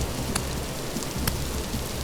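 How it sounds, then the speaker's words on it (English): Rain falls steadily in the game Vintage Story, a continuous dense patter with a few brief louder taps and no voices. "And why is it raining red?"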